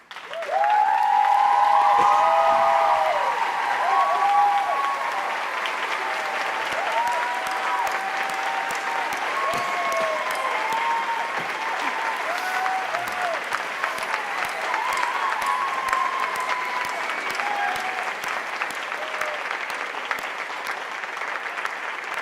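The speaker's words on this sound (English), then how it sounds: "let us applaud their contributions and dedication to your success" A large commencement crowd at a community college ceremony gives sustained applause to standing faculty and staff, loud at first and then holding a dense, even roar of clapping with some cheering for over twenty seconds.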